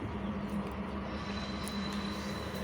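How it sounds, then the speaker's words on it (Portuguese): A train rumbles steadily in the distance beside a lake reservoir, a low continuous drone with no voices over it. "O trem passando lá."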